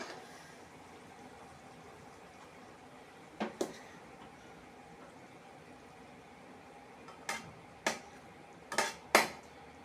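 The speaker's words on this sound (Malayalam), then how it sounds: "ഇനി നമുക്ക് ഇതിലേക്ക് ചോറ് കോരിയിടാം" Cooked jeerakasala rice scooped into a pot for biryani: a quiet room with a few sharp metallic clinks of a ladle against the pot, one near the start and a cluster toward the end, no talking.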